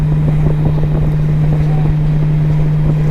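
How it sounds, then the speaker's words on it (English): Heavy wind buffeting a microphone in a vehicle travelling at 75 mph on a highway in high winds, a steady loud rumbling roar with a constant low hum throughout. "if this microphone is able to cut out all that wind noise"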